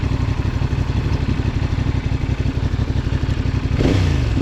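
A CFMOTO 450SR motorcycle engine under way, a steady, loud, close pulsing drone with rapid firing beats throughout, rising briefly in pitch near the end as the throttle opens.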